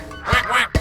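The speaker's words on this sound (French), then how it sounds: "Le petit canard, canard," A duck quacks twice in quick succession, loud and close, with no talk over it.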